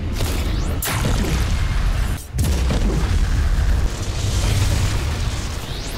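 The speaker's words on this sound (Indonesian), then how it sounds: "Dia lalu memutuskan untuk mengakhiri hidupnya dengan cara menusuk jantungnya dan meledakkan dirinya sendiri, membuat sebagian kastil itu hancur porak-poranda" A thunderous explosion rips through part of a castle in an anime scene, a heavy rolling boom that sustains loudly across the whole stretch with a brief dip in the middle before the rumbling blast resumes.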